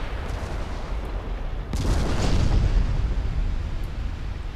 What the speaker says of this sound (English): That torpedo hitting Vittoria.